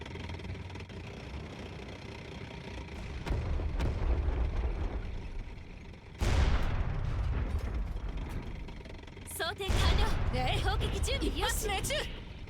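Tank cannon fire in the video game Panzer Knights: heavy booming shots ring out over a constant droning engine rumble, with a loud blast near the middle and another later, while someone talks over them.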